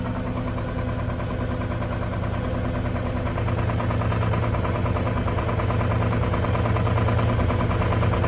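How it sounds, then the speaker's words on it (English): Ranch engine idling at about 1200 RPM while warming up, a loud steady close drone with a constant low rumble and faint knocking vibration, running alone with no voices. "So 1200 RPM is where you have to set the engine at for warm up."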